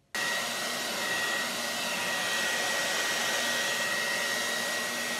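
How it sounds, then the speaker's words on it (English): A hair dryer on its cool setting switches on abruptly and blows with a steady, even whir, running continuously nearby with no talking. "I did bring the hair dryer this time and I used the cool setting"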